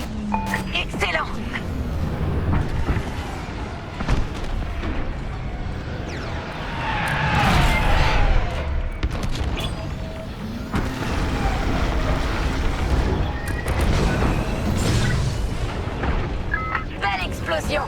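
Loud, dense Star Wars: Squadrons battle noise with heavy booming explosions, including a trench being blown up, and gunfire, rumbling continuously with voices talking over it.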